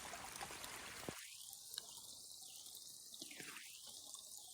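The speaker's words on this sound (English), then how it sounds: "we have this beautiful little babbling brook" Small babbling brook at a campsite, a soft continuous trickle of running water, faint and steady with no voices.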